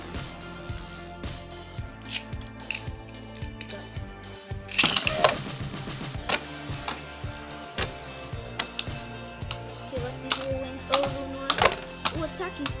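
Beyblade spinning tops, a Luinor L3 and a Fafnir F3, clash in a stadium, giving rapid metallic ticks and sharp clacks with one louder crash partway through, while someone talks over the battle.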